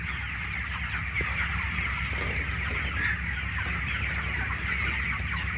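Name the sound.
chickens clucking on a poultry farm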